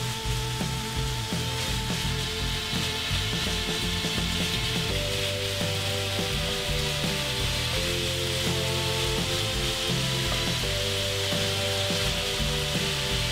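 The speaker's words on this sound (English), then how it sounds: "Now, using the same pan, we're gonna brown our bear." Bear meat browning in a pan: a steady, dense sizzle and crackle that carries evenly throughout, close and continuous with no talking.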